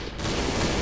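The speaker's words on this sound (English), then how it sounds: "I hear gunfire." Dense, continuous gunfire in the video game Trouble in Terrorist Town, a loud sustained volley filling the whole moment with no voices over it.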